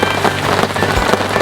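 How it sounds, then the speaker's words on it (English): Heavy rain pours steadily and loudly in remote Africa, a dense continuous patter drumming on a nearby car. "It's all pouring of rain."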